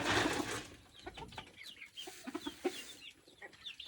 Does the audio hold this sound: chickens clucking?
yes